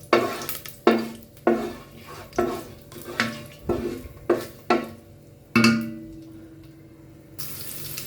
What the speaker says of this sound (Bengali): এটা এখন একটু নেড়ে চেড়ে হালকা ভেজে নিব